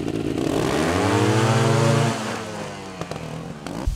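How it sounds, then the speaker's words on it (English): A trials motorcycle engine with the clutch slipping holds a steady mid-pitched drone that rises and then drops away as the revs fall, followed by a few faint clicks and knocks. "I'm going to be slipping the clutch again to control my speed, control my traction, and control where I want my front tire to land."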